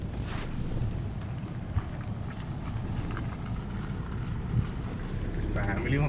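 Wind and rain sweep steadily across an outdoor spot during a rainy early morning, a constant close whoosh with a couple of small knocks and no clear talk.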